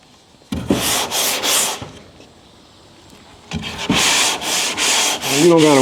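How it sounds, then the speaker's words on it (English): Hand sanding of car bodywork with sandpaper on a block, heard close up as two bursts of rhythmic back-and-forth rasping strokes separated by a short pause, with no talk over it. "you just gotta let the sandpaper do what it gotta do"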